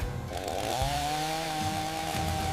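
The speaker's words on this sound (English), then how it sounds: "The return of the chainsaw is a triumphant, cathartic moment amidst the unrelenting horror." A chainsaw roars in a scene from an Evil Dead horror film, a loud sustained buzzing drone with a rising whine, mixed with film soundtrack and no speech.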